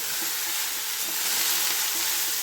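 Fenugreek greens fry and are stirred in a pan, making a loud, steady sizzle with faint scraping of the stirring underneath and no voices.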